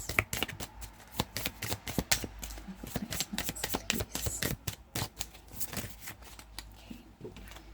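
Tarot and oracle cards being shuffled and pulled: a close run of quick, crisp riffling flicks and soft slaps in irregular bursts, fairly quiet and with no talking.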